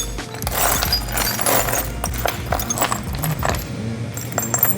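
Metal bolts and small parts clatter and jangle as a hand rummages through a parts box during a Mazda Miata engine build, busy continuous rattling close to the microphone with no talk.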